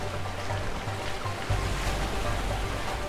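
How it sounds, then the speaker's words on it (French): A waterfall and rushing river in the video game A Way Out give a steady, loud broadband wash of water, continuous and close, with a low rumble that surges slightly halfway through. "Ouais, je sens qu'il y a une cascade là. Là, c'est sûr, il y a une cascade."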